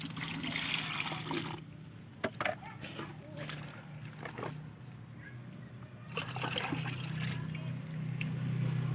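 Water rushes and splashes while a container is washed clean during the making of liquid organic fertilizer from animal urine, loud and close at first, easing to trickles and knocks midway, then running strongly again.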